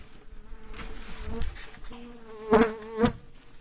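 Ecotype honeybees buzz close by with a steady droning hum, swelling louder in two brief bursts near the end.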